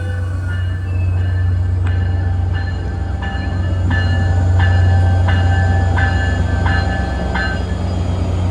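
An MBTA commuter rail train bound for Fall River pulls into JFK/UMass station, a steady low locomotive rumble under a repeating rhythmic clatter of wheels over rail joints, loud and close throughout.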